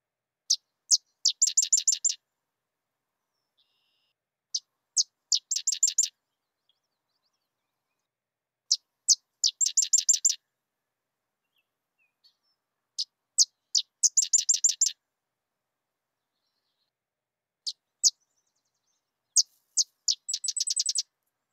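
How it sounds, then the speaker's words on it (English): Sedge wren song from a grassland bird: repeated bursts of sharp dry chips that run into rapid chattering trills, four phrases separated by pauses, clear and fairly close with no other sound. "Our final grassland bird is the sedge wren."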